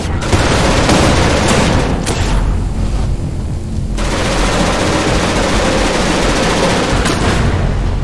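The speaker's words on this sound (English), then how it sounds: "the turret just ran out of ammo. They tend to explode when they do that." Turret exploding after running out of ammunition in the space game Genesis Alpha One, heard as loud sustained gunfire and booming blasts with sharp bursts throughout the stretch.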